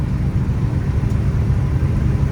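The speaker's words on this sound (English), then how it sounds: "Drive the car right down the road." A 1972 Oldsmobile Hurst with a 455 big-block V8 drives down the road. Its engine rumbles low and steady, with constant road and wind noise, no voices and no clear revving.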